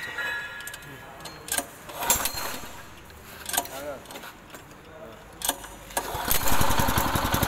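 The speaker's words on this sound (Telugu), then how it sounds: "ఇంజన్ స్టార్ట్ చేసేటప్పుడు చౌకీ ఆన్ చేసుకొని మనం స్టార్ట్ చేసుకోవాలి" A Varsha 5.5 HP gear-model engine is started with the choke on: scattered clanks and pulls give way to a rough, building engine run near the end, close and loud.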